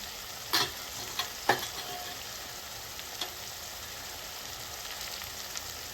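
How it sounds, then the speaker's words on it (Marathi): Turmeric, red chilli powder and coriander-cumin spice powder fry gently in a pan for a drumstick curry, a faint soft sizzle broken by a few sharp scrapes and clicks of stirring. "1 चमचा लाल तिखट, 1 चमचा धने-जिरे पावडर,"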